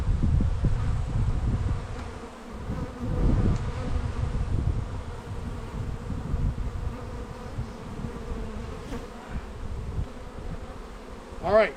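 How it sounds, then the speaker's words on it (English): Dense, steady buzzing of a huge mass of honeybees crowded at the bottom of a screened hive box, droning loudly and continuously with small swells throughout. "an incredible amount of bees on the very bottom"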